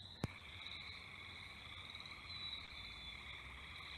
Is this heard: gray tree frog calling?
yes